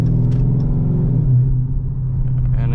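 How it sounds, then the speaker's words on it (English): A Dodge Charger R/T with a 5.7-litre V8 downshifting into a lower gear in sport mode, giving a dense, deep engine rumble that holds steady, then dips briefly and surges again, heard from inside the car. "as soon as I click the button, the car upshifts, or actually downshifts"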